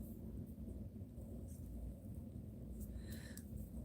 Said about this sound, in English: Here comes the thunder again.